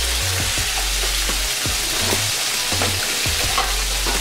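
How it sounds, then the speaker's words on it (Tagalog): Chicken breast frying in butter with a steady, loud sizzle, broken by a few scraping stirs in the pan. "I-fry muna natin ang chicken breast. I-fry natin ito hanggang maging golden brown ang surface."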